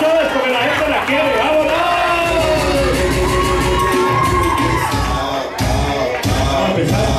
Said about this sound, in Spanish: ¡Un aplauso para la ganadora!